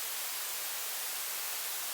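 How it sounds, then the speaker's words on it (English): A white noise riser in an electronic dance track builds just before the drop, a steady broadband hiss that holds alone and evenly for about two seconds. "And then I just added on some white noise to make it sound like"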